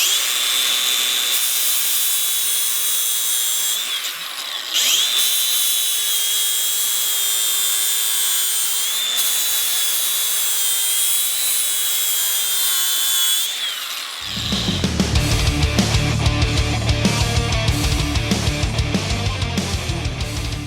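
A DeWalt 20V MAX 4.5-inch cordless angle grinder whines steadily outdoors in the snow, then bites into the workpiece with a loud, harsh grinding roar that continues to the end.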